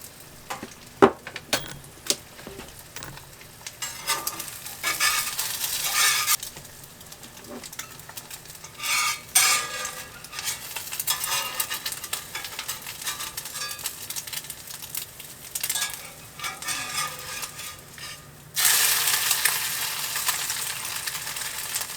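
An egg kept for thirteen months in a preservation experiment fries in a pan, giving a steady close sizzle that swells into louder hissing bursts, with a few light clicks and a loud rush of sizzling near the end.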